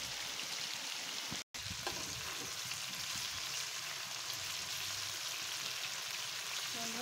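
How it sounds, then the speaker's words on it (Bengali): Fish frying in a pan beside potol bhaji, a faint, even background sizzle with a brief dropout partway through and a small clatter near the end, no talk. "এদিকে মাছ ভাজি হচ্ছে"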